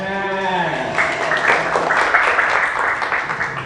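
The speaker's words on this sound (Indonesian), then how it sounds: "tepuk tangan." A sustained voice rings out briefly before a classroom of pupils at MIS Gumawang in Pekalongan bursts into lively, close clapping that carries on steadily to the end.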